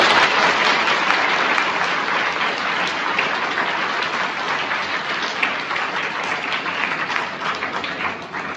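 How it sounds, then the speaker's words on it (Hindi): Sustained audience applause in a classroom-style talk, dense steady clapping from many hands filling the whole stretch at even loudness with no voices over it. "तो आपको मेरे लिए तालियां नहीं बजानी चाहिए?"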